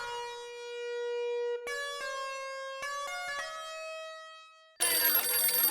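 An electronic ringtone plays a melodic sequence of clear tones, ringing alone before a sudden burst of noise at the end.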